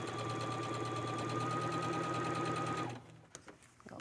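A sewing machine runs a steady, continuous stitch along a dress bodice seam for close to three seconds, then stops abruptly, leaving only faint room noise.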